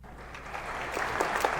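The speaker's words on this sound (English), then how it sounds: "The crowd's applause, joined by my own, echoes about as the heavy curtain draws across the stage." A theater audience applauds at the end of a play as the curtain draws across the stage, a brief, dense patter of many hands clapping in an echoing hall.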